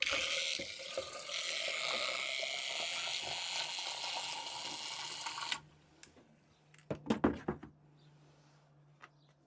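Water and fertiliser run into a plastic watering can, a steady rushing pour for about five seconds that stops abruptly, followed by a few knocks and clunks of the can being handled.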